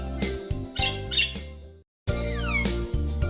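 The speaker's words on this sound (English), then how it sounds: "I hear the bird singing." Bright, melodic bird calls sound in two short phrases with quick rising and falling notes, separated by a brief silence, over a soft musical backing.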